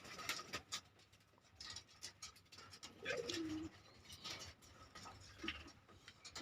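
Native pigeons coo softly in low, rolling calls at a small pigeon farm, amid faint ticking and scattered small clicks and rustles nearby.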